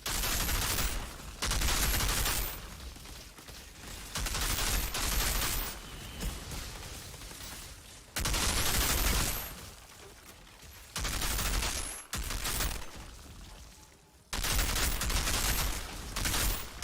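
Sustained rapid fire from the player's gun in Outriders, long loud bursts broken by brief pauses, with no one talking.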